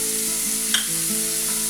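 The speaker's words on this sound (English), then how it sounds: "fry it for 2 to 3 minutes." Cashews frying in a pan with paste, a steady close sizzle throughout with a brief stir or clink near the middle; no one speaks.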